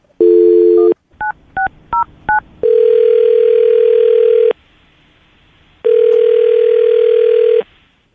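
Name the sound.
telephone dial tone while dialing a phone number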